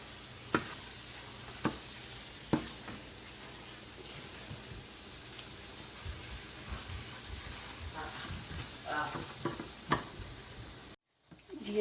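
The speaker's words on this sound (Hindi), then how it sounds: "अब मैं इसको हल्की आंच पे भून रही हूँ" Egg halwa roasts in desi ghee over low heat, a soft, continuous sizzle broken by a few sharp stirring clicks and scrapes, with no talking.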